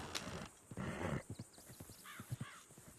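Horses in the video game Red Dead Redemption 2 whinny and snort amid clip-clopping hooves, with a short neigh rising over irregular hoof beats, fairly close and moderately loud.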